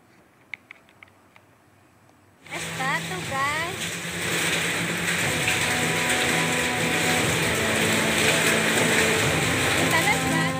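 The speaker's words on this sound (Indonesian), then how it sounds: "butiran es yang jatuh di atap rumah warga mengeluarkan suara keras" Hailstones pounding the roofs of houses during a severe storm in Sambi, Boyolali, Central Java, starting abruptly after a quiet opening and continuing as a dense, loud, steady clatter.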